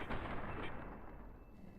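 Gunfire in Fallout New Vegas, a dense, loud burst of shots at close range that rings out and slowly fades over a couple of seconds, with no voices.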